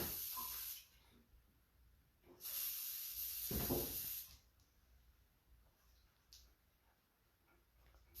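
Paint spray gun hissing chartreuse paint onto a crankbait in short bursts, two main blasts and a brief later puff, close and clear with quiet gaps between.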